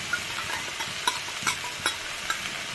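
Ginger garlic paste with Kashmiri red chilli powder sizzles in a pan over medium flame, a steady close hiss broken by a regular series of scraping stirring strokes, with no talk.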